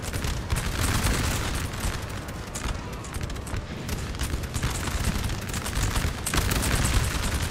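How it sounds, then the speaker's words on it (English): Rolling musket volleys from an infantry square in a Napoleonic battle in Napoleon Total War, the Battle of Bailén of 1808, as a dense, continuous crackle of overlapping shots with booming bursts throughout. "His volunteers of Catalonia form in square, firing at everything around them"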